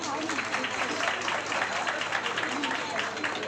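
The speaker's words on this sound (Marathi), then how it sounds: "त्यांच्यासाठी आपण टाळ्या वाजवूया" A dense, steady patter of applause from a crowd at a baby shower in Pune, continuous throughout with no gaps, moderately loud and filling the whole space.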